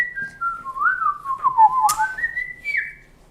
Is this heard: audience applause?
no